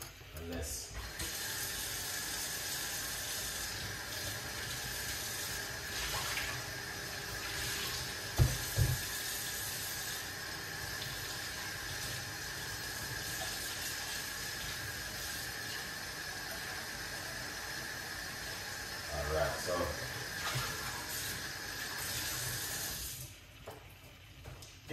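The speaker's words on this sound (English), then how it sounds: "where's my rosemary? I'm gonna rinse them off." Kitchen tap water runs steadily as rosemary is rinsed under it, a constant hiss with a few brief clunks and splashes, before the water is shut off near the end.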